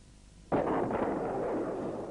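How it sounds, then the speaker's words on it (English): A starting gun fires at the start of a 100m sprint at a national athletics championship in Christchurch, one sharp loud crack after a quiet moment, then a sustained roar of crowd and reverberation carrying on behind it. "Now watch him and listen to the gun"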